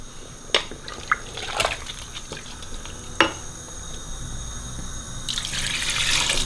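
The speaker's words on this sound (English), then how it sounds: "Now we're going to start adding the water." Plain water is poured into a pot of chicken stew and vegetables in a kitchen: a few clinks and small splashes come first, then a steady, close rushing pour near the end.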